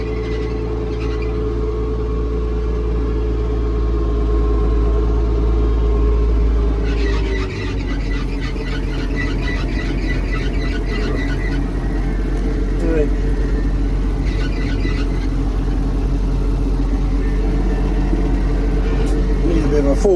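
A modified Massey Ferguson 1200 tractor engine idles with a steady, loud low rumble and a faint, thin squeal from its pump.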